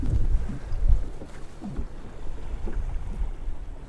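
Strong wind buffets the microphone on a small fishing boat out on the water, a rough, gusting low rumble that swells and eases with no speech.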